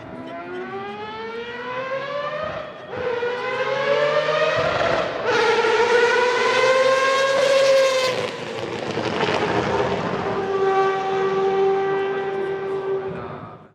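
The Mazda 787 endurance race car's engine, rated at 608 Nm, screams loudly on its own, its high pitch climbing through several successive pulls broken by brief shift dips, then holding a steadier tone.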